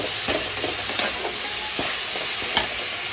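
Potato vada filling masala with chilli, ginger, garlic and coriander seeds fries in a pan over a low flame. A soft, continuous sizzle is punctuated every half second or so by quick spatula scrapes and stirs.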